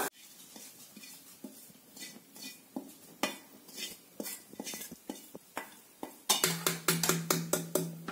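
Tempering is poured and stirred into millet pongal in a pot: sharp metal spoon clinks and scrapes against the vessel, then a brighter burst of sizzling and clatter near the end, close and with no talk.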